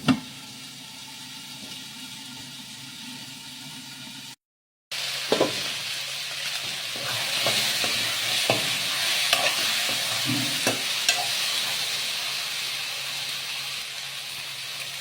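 Pumpkin, string beans and eggplant simmer in coconut milk while a spoon stirs through them, a close sizzling hiss with repeated scraping and knocking strokes against the pan and a brief gap early on.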